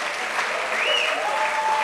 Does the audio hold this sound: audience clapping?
yes